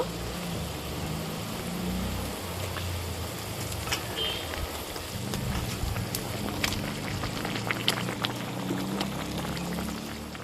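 Bengali river fish curry gravy bubbling in a pan, a continuous dense simmering hiss with scattered soft pops and ticks, steady and close throughout.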